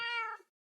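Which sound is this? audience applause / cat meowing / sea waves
cat meowing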